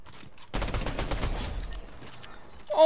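A very fast-firing gun in a video game, one dense burst of rapid shots lasting about a second before it tails off into quieter game noise.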